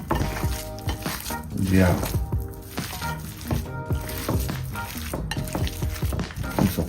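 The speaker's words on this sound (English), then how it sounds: "So we just have to mix it in." A jerk burger mixture is stirred in a hot pan, scraping and clinking under a steady sizzle, close up, with a voice speaking briefly over the cooking.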